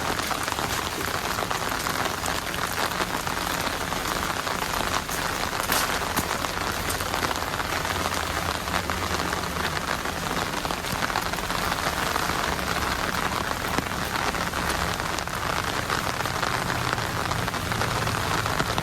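Heavy, steady rain pours onto a surface, a dense continuous hiss with no gaps for the whole stretch.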